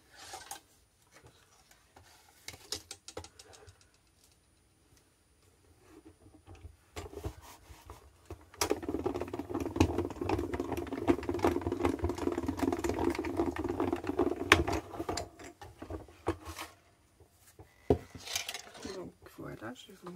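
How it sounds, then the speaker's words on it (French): A manual die-cutting machine cranks a paper die, held in place with double-sided tape, through its rollers while a scrapbook journal page is being made. A steady grinding, rasping run lasts several seconds between quieter handling clatter. "je vais venir le passer dans la machine"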